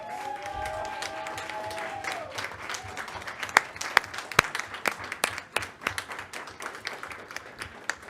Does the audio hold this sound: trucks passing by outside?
no